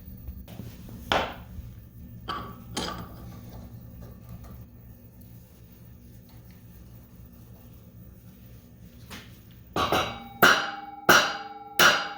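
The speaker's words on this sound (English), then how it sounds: "it'll come out whenever I hammer that tool through the sprocket on the other side" A tool is hammered through the sprocket of a Ski-Doo QRS secondary snowmobile clutch to push out a bearing, with a few sharp metallic blows early on, a quiet stretch, then a quick run of four ringing strikes close by.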